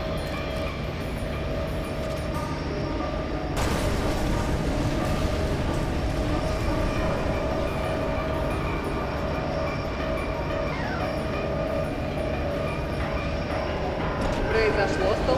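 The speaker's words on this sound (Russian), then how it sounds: "Произошло столкновение. Состав разворачивается." A train from the game F.E.A.R. 2 rumbles along steadily, then a sudden loud jolt hits near the midpoint and the heavy rolling continues with metallic ringing tones, dense and close throughout.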